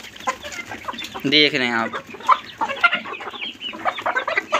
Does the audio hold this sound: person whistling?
no